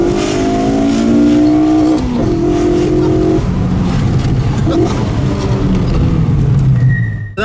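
Old BMW E36 318i with a four-cylinder engine driven hard, its engine droning and revving steadily through gear changes, loud and close from inside the cabin, with people talking over it.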